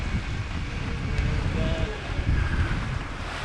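Wind blows steadily past a sailboat running downwind, a broad low rumble and rush of moving air with faint water wash, constant and close to the microphone.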